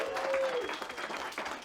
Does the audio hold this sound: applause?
yes